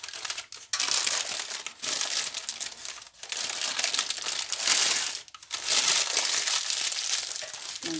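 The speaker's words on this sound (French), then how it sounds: "je vais prendre d'abord l'aubergine ici, je vais mettre dans du papier sulfurisé." Parchment paper wrapped around an aubergine, loud close crinkling and crumpling in repeated bursts with short pauses, each handling stroke giving a crisp rustle.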